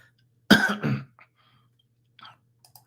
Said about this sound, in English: I know you're probably asking because of the cough and stuff I had